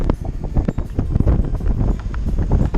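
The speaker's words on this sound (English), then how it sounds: "I just sat on the saddle and let the wind take me." Steady wind roars across an open microphone while a bicycle coasts along without pedalling somewhere between San Pedro in Chile and San Juan in Bolivia, a loud continuous rush with gusty low buffeting and no voices.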